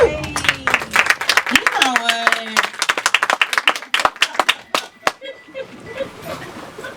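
Applause and scattered clapping from a comedy-show crowd, with dense claps and cheers through most of the clip that thin out toward the end, heard along with a host's voice speaking.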